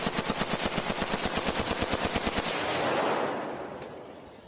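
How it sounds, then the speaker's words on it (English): Rapid bursts of gunfire crackle in a steady automatic rhythm for about two and a half seconds, then fade into a lingering echoing rumble, set within a horror story about a creature attack. "Gunfire erupted in the distance."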